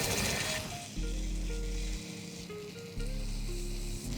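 Paneer and pepper skewers sizzle in hot oil on a tawa, a steady hiss that runs through the whole stretch beneath background music.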